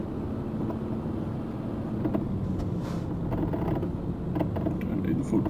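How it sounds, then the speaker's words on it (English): Steady low engine drone of a truck running on its engine brake in Euro Truck Simulator 2 on a road in Spain, a continuous rumble with faint creaks over it. "Got the engine braking on."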